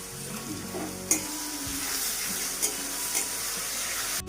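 Onion, green chili and ginger-garlic paste fry in a pan for veg paneer biryani, producing a loud, continuous sizzle with a few sharp utensil knocks against the pan.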